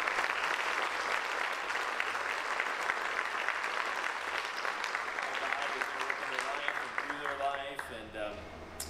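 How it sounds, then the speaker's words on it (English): Sustained audience applause and some cheering fill a campus house livestream gathering, a dense steady clatter of clapping that thins out toward the end. "let's just give a hand for all 3 of them just cheering"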